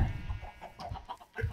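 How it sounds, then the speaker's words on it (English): Minecraft chickens cluck in short, soft bursts, several calls scattered across a brief moment with no talking, fairly quiet and close. "Look at all those chickens."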